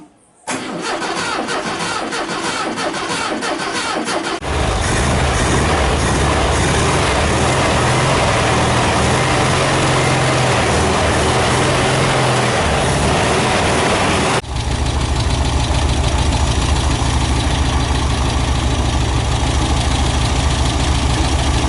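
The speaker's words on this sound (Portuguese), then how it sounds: "assim que o motor funcionar eu vou descer a Kombi um pouco" A 1993 Volkswagen Kombi engine cranks for a few seconds, catches and settles into a loud, close idle that runs steadily on, with a shift in its note partway through and no talking.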